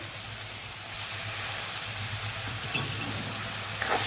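Fenugreek greens sizzle and fry steadily in a hot pan for a Kathiyawadi methi dish, with tomato stirred in; a continuous close hiss with light stirring scrapes throughout, no speech.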